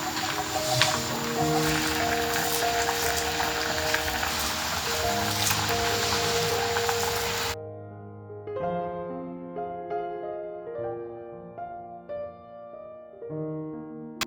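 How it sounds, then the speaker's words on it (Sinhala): Flour is worked together with water by hand for patty dough, giving close, wet squishing and kneading noise for several seconds before it stops and music carries on alone. "මේ පිටි කවලම් කරගන්නවා"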